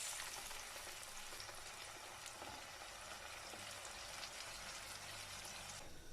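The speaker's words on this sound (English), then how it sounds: "I'm gonna add my red pepper and tomato that I blended to the onions." Blended red pepper and tomato sauce poured onto onions frying in a pan: a continuous loud, broadband hiss and bubbling sizzle, steady throughout and close, with no talking.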